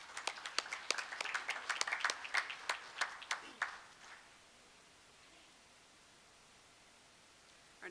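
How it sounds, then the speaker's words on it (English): A round of applause for student winners at a school board meeting: scattered, moderately close hand claps that thin out and fade within about four seconds, leaving near silence. "Let's have another round of applause for our winners."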